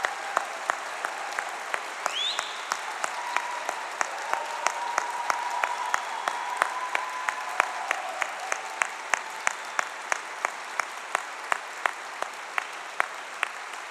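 Family and friends applauding Open University graduates at a Manchester degree ceremony, a continuous hall-filling round of clapping with distinct sharp claps punctuating it and a faint whoop or two.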